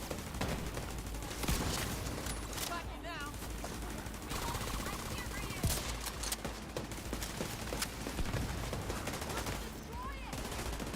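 Gunfire in the video game The Division 2, repeated bursts and scattered shots crackling through a busy firefight, with a voice talking over the action.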